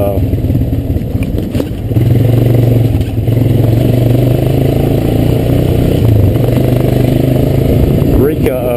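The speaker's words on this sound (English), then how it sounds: "But this motor right here makes its power up, you know, higher in the rev range." A Honda Recon ES ATV engine runs close and steady, a dense mechanical drone that rises into a sustained higher-revving tone partway through, with rattling clatter throughout.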